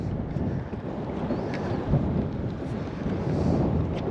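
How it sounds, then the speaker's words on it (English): Strong wind on open water while fishing from a boat: a steady, loud, low rumbling buffet of wind against the microphone with gusty surges, no voices. "that wind's gotten crazy"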